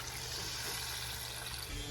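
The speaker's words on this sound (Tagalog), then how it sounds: "Next, nawasang tubig. Isang mangkok." A bowlful of water poured into a cooking pan for pancit bihon with leftover adobo and carrots, giving a steady, close splashing pour that lasts throughout.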